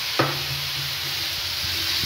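Jackfruit bhorta stirred in a pan, a single spoon scrape at the start followed by a steady sizzling hiss with soft scraping, close and alone with no talking.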